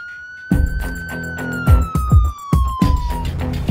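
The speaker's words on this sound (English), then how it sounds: "I wanted to see if I could hear the ambulance siren." Ambulance siren in Leverage: a loud, sustained wailing tone that slides slowly downward, heard alongside heavy rhythmic thumps.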